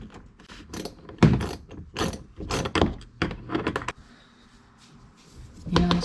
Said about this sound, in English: I've also got a Phillips head screwdriver. So I've got a Phillips head on there.